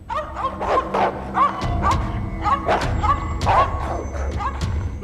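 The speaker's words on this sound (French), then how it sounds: "Mes chiens se sont mis à aboyer et à grogner." Several dogs barking and growling at night, repeated close, loud barks in an uneven rhythm over a low rumbling growl.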